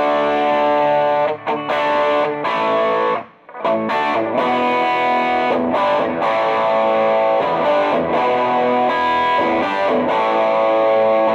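Fender Custom Shop Empire 67 Super Strat electric guitar playing a thick, sustained lead on the bridge pickup through a Boss Super Overdrive into a Blues Junior amp, loud and continuous with one brief gap, no talk.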